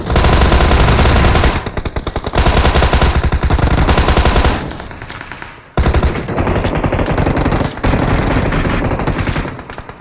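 A Thompson submachine gun fires in the BGMI mobile battle game, loud sustained automatic bursts crackling up close with short gaps between strings of shots.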